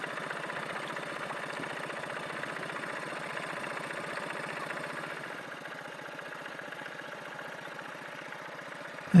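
A 4-stroke outboard engine on an inflatable boat running steadily at sea, a continuous mid-pitched drone with fine rapid pulsing, easing slightly before a sharp burst at the very end.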